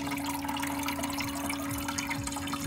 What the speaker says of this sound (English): now, if you can see, it's starting to fill back up with water.